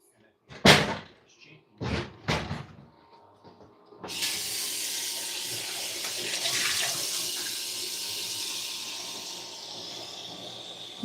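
Kitchen tap water running steadily into a pot being filled for boiling, preceded by a few sharp knocks and clunks, close and continuous for several seconds.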